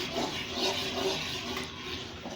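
Hot syrup poured slowly into a pan of toasted flour halva, a steady close rushing, sizzling pour that continues without a break.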